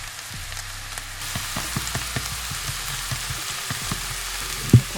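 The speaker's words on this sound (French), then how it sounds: "on a notre préparation d'oignons. On va les saisir dans un premier temps, puis après les faire cuire légèrement" Onions searing in a hot pan for samosa filling, a soft steady sizzle with scattered pops and crackles and one sharp clatter near the end, no speech.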